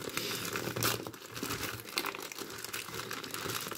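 The plastic wrapping of a paint-by-numbers kit in a small cardboard box is torn open by hand, giving continuous close crinkling and crackling with short tearing bursts throughout and no voice.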